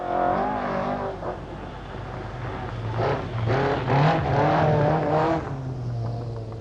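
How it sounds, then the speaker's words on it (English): A rally car on the 1985 RAC Rally revs hard, its engine note rising and falling in loud repeated surges as it passes close by, with no talk over it. "Russell Brooks, listen to the revs."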